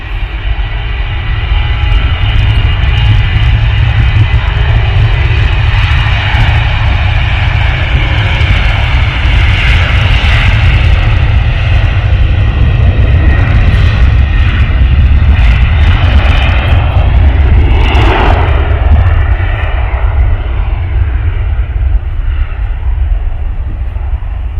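A Jet2 airliner's engines roar during takeoff, a loud continuous rumble heard from outdoors at some distance, steady for the whole stretch with no voices.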